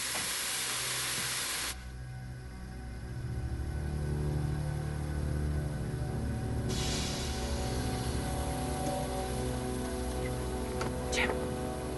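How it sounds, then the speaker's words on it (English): Steam hisses loudly from a ship's stopped engines in a TV drama about the Titanic, a broad steady rush that surges in after a pause and holds under low rumbling, with people talking over it. "Sounds like steam escaping."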